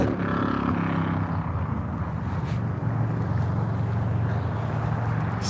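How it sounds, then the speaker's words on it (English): Motorcycles pass on a city street, a loud continuous engine roar with rumbling tones, mixed with wind noise against the microphone. "Have to wait and see if you can hear me over the motorcycles"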